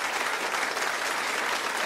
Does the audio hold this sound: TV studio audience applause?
yes